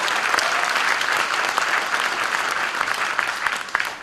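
Dense, loud applause from a crowd at a party founding rally in Jeonbuk, a continuous roar of many hands clapping with a few sharper claps close by.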